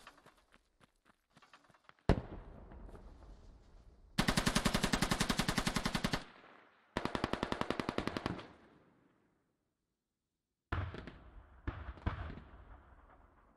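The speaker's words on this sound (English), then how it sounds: "There's that machine gun going." Machine gun on a BTR-80 armored vehicle firing in a military video game, with loud rapid bursts of a few seconds each separated by pauses, plus scattered distant single shots.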